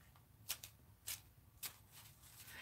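Quiet card shuffling: three quick riffling bursts spaced about half a second apart over a faint low background hum.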